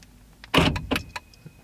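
Jeep Wrangler door locks actuate when unlocked with a new key fob, a quick loud mechanical clunk followed by a second softer click and a faint trailing tick, heard close up and alone.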